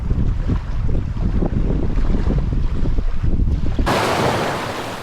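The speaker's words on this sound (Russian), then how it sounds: "Сегодня ветер отжимной." Steady offshore wind on the Sea of Okhotsk coast rushes and rumbles against the microphone alongside surf noise, then cuts abruptly to a bright hiss near the end.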